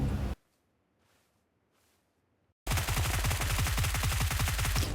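Automatic gunfire in a battle royale video game: a brief burst at the start, near-silence, then loud, dense continuous rapid fire filling the rest.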